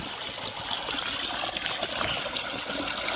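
Water gushing from the full 3-inch delivery pipe of a 7.5 hp solar-powered BLDC pump on a farm, a loud continuous rushing flow with no pauses.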